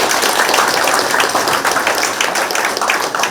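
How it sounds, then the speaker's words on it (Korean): Loud, dense clapping from a crowd at a campaign office opening ceremony for a Gumi mayoral candidate, sustained and busy throughout with no pause. "큰 박수 부탁드리겠습니다"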